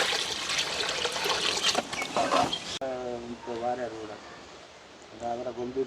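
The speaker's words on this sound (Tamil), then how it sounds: "மீன் கழுவி எடுத்தாச்சுன்னா இன்னொருக்கா கழுவி விட்டாச்சு" Tap water trickles and splashes while fish is washed and rinsed a second time in a village kitchen, steady and close at first, then softer, with someone talking over it.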